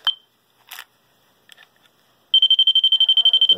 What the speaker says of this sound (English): that little beeping sound is indicating where current is present